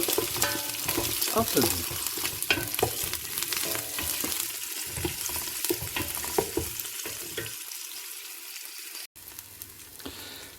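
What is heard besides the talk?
onions sautéing in olive oil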